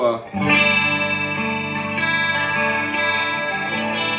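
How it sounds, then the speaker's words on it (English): A sustained Gibson Les Paul electric guitar chord rings out, shimmering with chorus and trailing delay and reverb, swelling and holding steady without any talking. "what I have is a little delay, a little reverb, and a little chorus"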